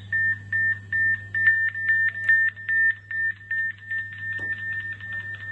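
A rapid series of about thirteen short, evenly spaced electronic beeps from a walkie-talkie buzzer, loud and close, over a low steady hum.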